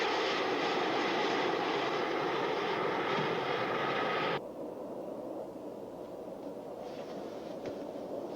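Scion jet aircraft engine roaring steadily in flight, a loud broadband jet rush that drops abruptly to a quieter, muffled cabin hum partway through, with faint higher hiss returning near the end.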